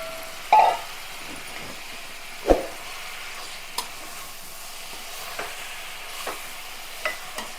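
Mutton keema curry stirred in a pan with spice paste and chili powder: a low, steady frying hiss with a few scraping clacks of a spoon against the pan, no voices.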